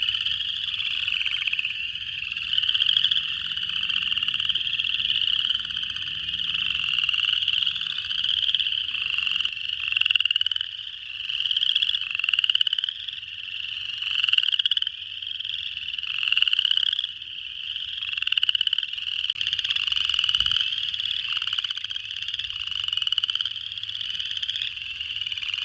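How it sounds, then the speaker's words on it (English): A chorus of boreal chorus frogs calls nonstop in spring in Missouri in shrill, rapid, overlapping trills, loud and close, filling the whole stretch. "this is a boreal chorus frog."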